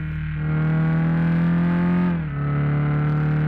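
Engine drone of a BMW X5 car mod in Bus Simulator Indonesia on Android, a steady buzzing hum that rises as the car accelerates, dips briefly and then settles back to a constant tone, with no talk.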